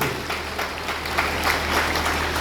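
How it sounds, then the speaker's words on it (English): A school audience at a Teacher's Day event claps steadily for a former principal, a short burst of dense, even applause over a low hum. "Have a big round of applause for Father Matthew"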